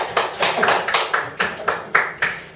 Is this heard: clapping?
yes